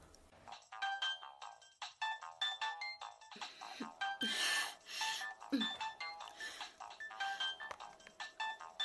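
A mobile phone rings with a repeating melodic ringtone, fairly loud and close, with brief voices and indoor movement breaking in between the tones.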